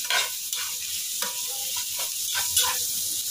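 Long beans and carrot stirred in a sizzling pan produce a steady frying crackle broken by repeated scraping strokes of a spatula, close and moderately loud.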